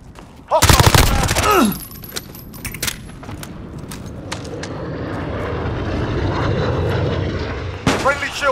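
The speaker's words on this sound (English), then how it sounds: "Friendly VTOL on station for Overwatch." A friendly VTOL aircraft arrives in a Call of Duty: Modern Warfare multiplayer Domination match, a sustained engine roar swelling over several seconds after sharp bursts of gunfire, with a voice announcement at the start and end.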